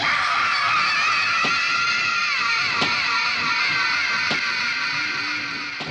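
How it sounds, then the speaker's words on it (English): Distorted, echoey wailing screams from the trowel scene of the 1968 zombie film Night of the Living Dead rise in long, warbling overlapping cries, loud and sustained, with sharp clicks breaking through. "the screaming becomes this really weird sort of echoey wailing that again is like something out of Texas Chainsaw Massacre"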